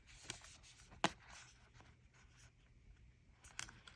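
Plastic pull tabs being peeled off a new AirPods Pro 2 box in a quiet room, a few short crisp tearing rips with a sharp louder one near the start, alone with no talking.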